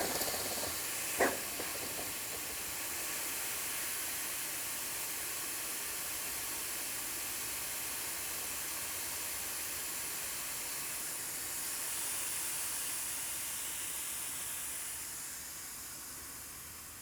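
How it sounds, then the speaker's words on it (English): Compressed air hisses steadily out of the air motor of an airless spray pump, a broad continuous rush that stays fairly even throughout after a brief knock near the start. "Now, as you can hear, the air is now expelling from the unit"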